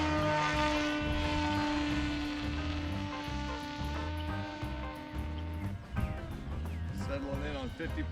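An FT Explorer RC model airplane with a polyhedral trainer wing, swinging a 9-inch prop on a new radial motor, drones steadily in flight, its propeller hum holding a sustained buzzing tone that shifts pitch partway through.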